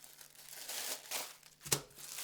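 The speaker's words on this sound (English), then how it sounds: "I have this little plastic bag" A small plastic bag is handled close by, giving soft continuous crinkling and rustling with one sharper crackle near the end, and no talking.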